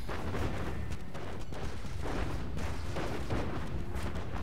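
Continuous rumbling barrage of artillery fire in the strategy video game Planetary Annihilation, dense overlapping booms and crackling impacts at steady loudness throughout, with no talk.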